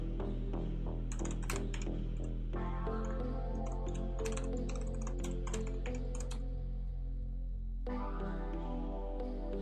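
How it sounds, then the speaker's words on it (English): Steady, rapid clicking of typing on a computer keyboard, close and fairly faint, continuing with short pauses under a constant background of synth music. "Typing up links."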